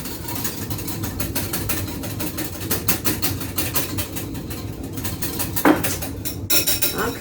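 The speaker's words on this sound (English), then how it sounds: "just whisk all that together" A whisk beats a coarse pink Himalayan salt mixture in a bowl, making rapid, rhythmic metallic clicks close up over a low background hum, with a sharper clink near the end.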